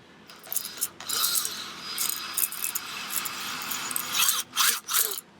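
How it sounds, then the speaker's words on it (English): Step bit drilling a hole through a rubber motorcycle hand guard, giving short bursts of high whirring and grinding with brief stops, clicks and handling noises, close and moderately loud. "Or you can take a step bit like this, and you put it in the middle,"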